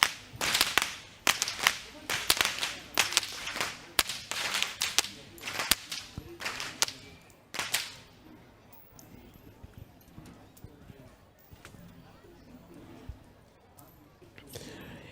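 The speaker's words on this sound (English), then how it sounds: "these whip wielders are the symbolic imagery to depict the sound of lightning and thunder to pay homage to the rain gods" Whip wielders at the Kandy Esala Perahera procession crack their whips in a quick run of sharp, loud snaps, thinning out as the clip goes on, over a crowd's murmur with talk in the background.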